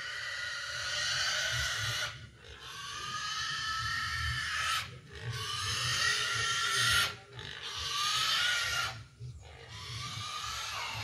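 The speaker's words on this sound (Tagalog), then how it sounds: "Gutom na yung baboy." A hungry pig at a rural farm squeals in four long, loud, harsh bursts separated by short breaths, close by with a low rumble underneath.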